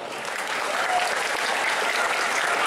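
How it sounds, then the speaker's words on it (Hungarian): Steady applause from a cosplay contest audience, a dense even patter of clapping holding at moderate volume throughout. "nagy tapsot!"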